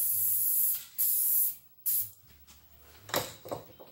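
Fluoroglide lubricant sprayed from an aerosol can onto a Dodge Caliber front wheel bearing before pressing, two loud close hissing bursts followed by quieter clicks and handling noises.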